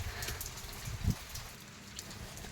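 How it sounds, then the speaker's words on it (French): Heavy rain hammering down with hail during a storm, a steady close wash of noise with a brief louder burst of impacts. "Il grêle en même temps."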